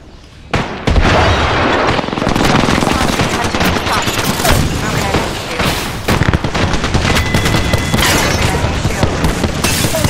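Dense, loud gunfire rattles through a video game firefight, bursts and single shots overlapping almost without pause after a brief quiet start, with explosions thudding in the mix.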